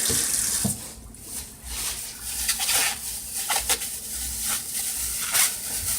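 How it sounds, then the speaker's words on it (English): A knife blade rinsed under a running kitchen tap, a steady splash of water into the sink that swells and fades as the blade moves through the stream, with faint clinks, no speech. "I'm going to go ahead and wash the blade"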